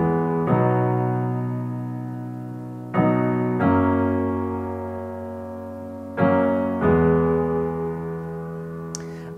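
Chorus chords of a song played on piano: four full chords struck in slow succession, each ringing out and decaying before the next, with no voices.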